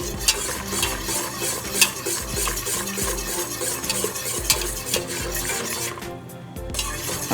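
A spoon stirs a cornstarch mixture as it cooks in a pot, giving a steady scraping and swirling with faint bubbling and occasional clinks against the metal, close by and without talk.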